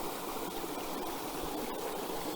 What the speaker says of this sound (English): we're at the second creek crossing